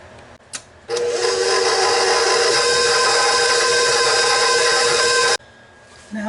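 An electric mixer beating egg and molasses into gingersnap cookie dough, a loud steady motor whine that starts abruptly, runs about four and a half seconds without change, then cuts off.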